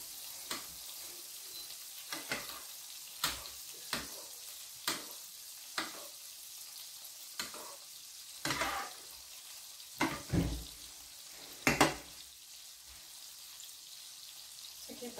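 Salmon frying in a pan of butter and lemon sauce, giving a soft steady sizzle broken by sharp scattered pops and spits at irregular intervals, close and fairly quiet with no talking.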